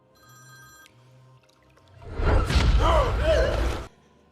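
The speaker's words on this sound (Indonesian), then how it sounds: "saat Leo ingin mengambil ponsel guna menjawab panggilan telepon" A mobile phone rings with an incoming call in an alien film scene, a thin repeating tone close by, before it is cut off by a loud rushing burst of commotion and a strained vocal cry.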